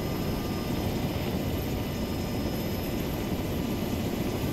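A helicopter in a military video game drones in a steady, even whir of rotor and engine noise, continuous and moderately quiet with no voices over it.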